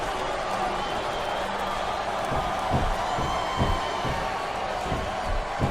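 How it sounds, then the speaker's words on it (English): A wrestling arena crowd roars and cheers in the SmackDown vs. Raw 2007 video game, a steady dense wash of noise with a few sharp thuds punching through. "I love hearing the crowd come alive"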